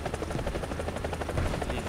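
A military helicopter in the War Thunder combat game drones with steady rotor chop, loud and close throughout, with no other sounds over it.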